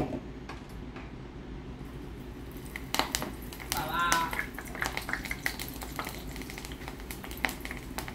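Steady crackling sizzle of homemade herbal hair oil heating and foaming in a pan, with scattered ticks, pops and the occasional clink of a utensil.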